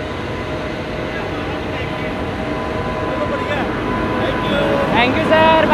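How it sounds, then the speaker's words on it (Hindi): The Ahmedabad Puri Superfast Express, hauled by a WAG-9 electric locomotive, departs Bhilai Power House railway station with a steady rumble that slowly grows louder, and faint tonal whines come in near the end. "Ahmedabad Puri superfast express ready to depart from Bhilai power house railway station width of link WAG-9"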